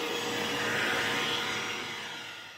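A Vax Blade 32v Pro cordless vacuum cleaner with its brush bar head attached runs with a steady, airy whine and hiss, holding level before tapering off slightly at the end, with no talk.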